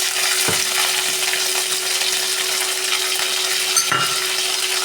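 Fenugreek seeds, curry leaves, garlic, ginger and green chilli fry in hot oil with a bright, steady sizzle, close and continuous, and a couple of soft utensil knocks break through.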